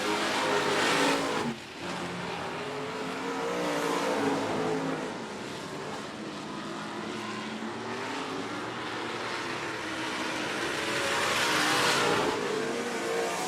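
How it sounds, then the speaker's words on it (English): Race cars roar around a speedway track during a race, engines droning loudly and steadily with a passing swell near the start and another building toward the end. "See if he has any trouble getting by the number 8 machine of Adam Kennedy."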